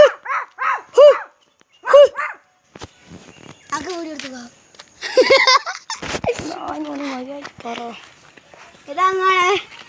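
Dogs bark in a quick series of several sharp, close barks, then the scene turns busier with scattered voices and a child's giggle, and more barking and noise near the end.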